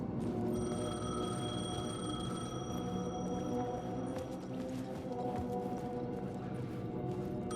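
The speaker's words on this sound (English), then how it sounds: "phone was ringing." An old-style telephone bell rings repeatedly in the game Alan Wake 2, a steady electric trill over low ambient rumble, moderately loud and without speech.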